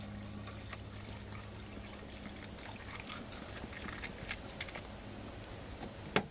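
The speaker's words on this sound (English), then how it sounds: "the last thing I'm going to do under the hood is top off the washer fluid" Washer fluid trickles and pours steadily into the reservoir of a Toyota RAV4 under the hood, a low continuous liquid wash with a few faint clicks and a sharper knock at the end.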